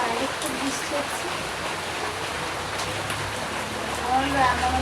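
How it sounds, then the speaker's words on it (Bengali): Heavy rain pours down outdoors as a steady, dense hiss on a rainy day, holding at an even level throughout. "বাইরে খুব বৃষ্টি হচ্ছে।"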